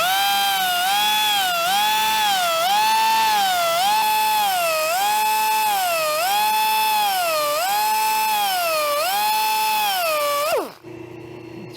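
A belt sander grinds steadily against a metal part from an Aermacchi motorcycle in a workshop, its pitch rising and falling in a rhythmic wave for about ten seconds before abruptly winding down.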